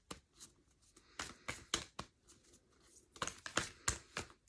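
Tarot cards being shuffled by hand, a run of crisp riffling and slapping bursts in an irregular rhythm, close and fairly quiet with no talking.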